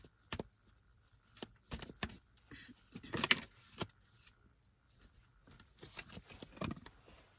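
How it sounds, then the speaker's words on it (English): Tarot cards being shuffled close by in quiet surroundings: soft, irregular snaps and riffling taps come in short bursts, with no one speaking. "I'm just shuffling and I already got cards popping out"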